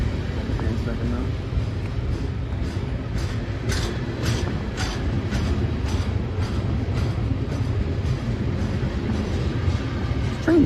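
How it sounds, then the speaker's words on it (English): A long freight train rolls past on the Pittsburgh line, a steady heavy rumble with regular clicking wheel beats over the rail joints, loud and continuous throughout. "This train's really long today."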